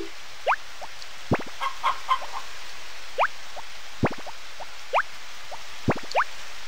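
Chickens on a Harvest Moon farm give short, bright clucks in an uneven, sparse rhythm, each call a quick rising chirp standing alone over a quiet, faintly hissing background.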